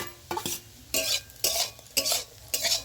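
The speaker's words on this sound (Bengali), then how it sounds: "এবারে এই ডিম ভুজিয়াটা আলুর মধ্যে দিয়ে দেবো।" A spatula stirs scrambled egg bhujia into fried potatoes in a pan, giving five evenly spaced scraping strokes roughly every half second, each over a soft sizzle.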